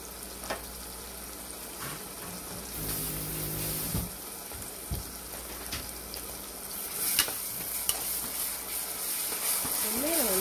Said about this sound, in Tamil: இந்த பேஸ்ட்ரி போட்டு நல்லா வதக்கி விட்டோம்னா அதோடய பச்சை ஸ்மெல் எல்லாம் போயிடும்